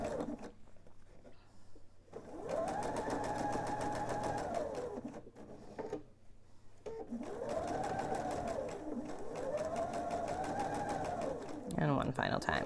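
Sewing machine running in long steady bursts as it stitches back over an existing seam while piecing a table topper, motor pitch rising and falling with each pass, pausing briefly between runs, with a voice speaking over it.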